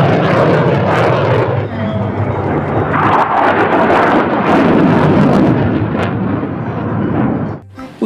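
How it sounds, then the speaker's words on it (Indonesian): Toy fighter jet giving off a loud, close, roaring engine effect, a sustained broadband rumble with rising and falling intensity, mixed with voice-like sounds, fading out near the end. "Di sini ada pesawat jet tempur."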